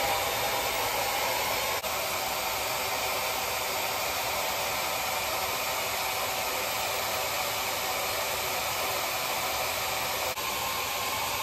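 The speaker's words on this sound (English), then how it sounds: "oh, it feels so good to blow dry your hair" A hair dryer blows hair dry in a steady, loud, close whoosh of air that runs unbroken for the full length, with no talking over it.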